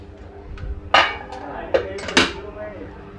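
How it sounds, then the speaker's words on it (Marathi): Boiled potatoes lifted out of a pressure cooker after three whistles, a few sharp metallic clanks and knocks of a utensil against the pot amid a low kitchen hum. "मी आता कुकरमधून काढून घेत आहे."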